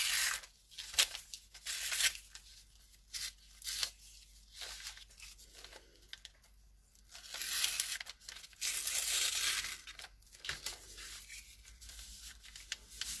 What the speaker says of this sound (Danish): Jeg tror bare, jeg propper dobbeltklædt med tape på.